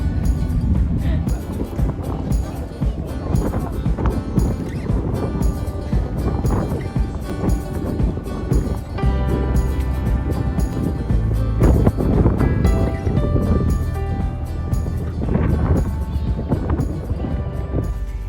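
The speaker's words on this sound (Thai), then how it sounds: "แต่ว่าตอนนี้ลมแรงมาก" Strong wind gusts across the open deck of a Viking Line cruise ship bound for Stockholm, a loud, steady roaring rumble that persists throughout while someone talks over it.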